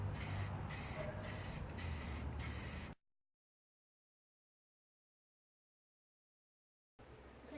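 Trigger-handle spray paint can hissing out paint in short repeated bursts for about three seconds, used on a glittered unicorn float, followed by a silent gap and a brief return of noise.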